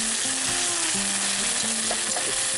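Okra sizzles and crackles in a very hot pan while it is stirred, with a loud, steady frying hiss. Brief tonal scrapes from the utensil against the pan rise and fall throughout, with no voices.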